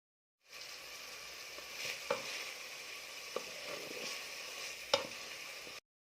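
Chopped onion fries in butter in a pan with an even, soft sizzle that runs steadily, broken by a few faint clicks of stirring.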